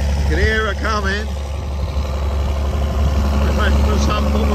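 A farm vehicle engine runs without a proper exhaust, a loud low steady rumble throughout, with a person talking over it near the start.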